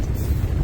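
Strong sea wind of about 35–40 knots buffets a tent camp in a rainstorm, a steady loud low roar rumbling across the microphone with no break.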